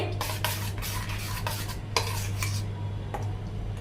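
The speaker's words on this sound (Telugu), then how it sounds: "బాగా షేక్ చేసి ఈ విధంగా మనం గుడ్లు అయితే కొట్టేసుకొని బాగా కలుపుకోవాలి" Eggs mixed with an onion mixture are beaten briskly in a bowl, quick repeated utensil clinks and scrapes in an even rhythm over a steady background hum, no talking.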